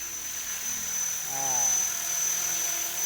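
A Walkera V450 radio-controlled helicopter flies beside a road, its rotor whine steady and high-pitched, with a low engine tone rising and falling as it passes near.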